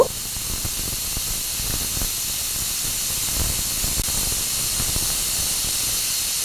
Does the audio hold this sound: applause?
no